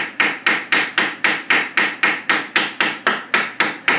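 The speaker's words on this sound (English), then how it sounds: "let the hammer do the work. You don't want to smash it." A hammer peens a nail over a washer on a plastic shield edge with steady, evenly spaced blows, about three strikes per second, each a bright close metallic tap with a short ring, no voices.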